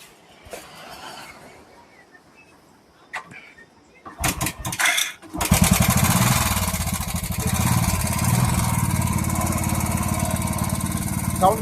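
A Royal Enfield Bullet motorcycle is kick-started after a few quiet kicks, then the engine catches and runs loud and close with a steady, throbbing idle that fills the rest of the recording.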